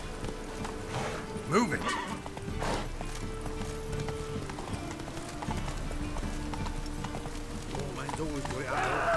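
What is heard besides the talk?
horse galloping in The Witcher 3 video game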